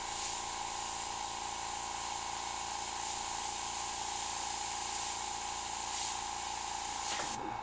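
A steady, close airbrush hiss spraying lacquer thinner runs without a break, a fine continuous spray that cuts off abruptly at the end.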